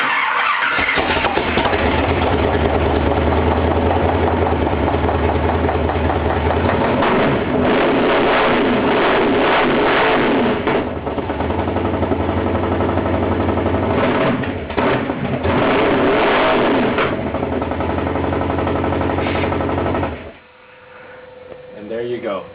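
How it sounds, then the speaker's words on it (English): The 52 motor in a 1952 Chevy truck runs loud and close with a rough, rapid idle and surging revs for about twenty seconds, then cuts off abruptly. People talk over the engine. "this is the debut of the 52 motor, and we're going to fire it up"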